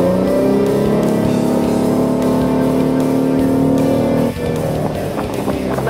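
A Volvo Penta 4.3-liter sterndrive engine on a Stingray boat powers up under throttle, a loud, sustained close-up drone that shifts in pitch late on as water and hull noise join in.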